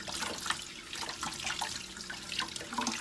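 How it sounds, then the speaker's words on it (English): Vegetables being washed and rinsed under a running kitchen tap, a steady splashing flow of water into a sink with irregular spatters, close and fairly loud, with no voices. "We want to make sure that we wash and rinse completely the vegetables."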